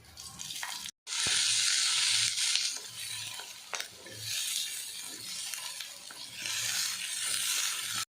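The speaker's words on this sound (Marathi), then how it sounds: "आणि मग ह्याच्यामध्ये टमाटे फ्राय करून घेऊयात त्यामध्ये थोडंसं तेल टाकूयात" Green tomatoes frying in a little oil in a pan, loud bursts of sizzling and spattering that swell and ease as they are stirred, with a brief silent break near the start.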